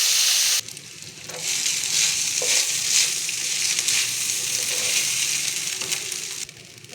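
Crumbled rice idli is stir-fried in oil with urad dal and asafoetida. The pan sizzles loud and close with a steady frying hiss and shifting stirring scrapes, then cuts off near the end.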